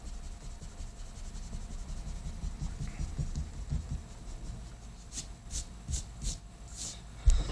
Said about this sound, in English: go back with your eraser and erase all the pencil lines